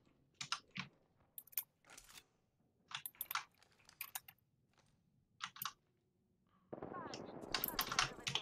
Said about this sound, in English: People are shooting at us from the other side,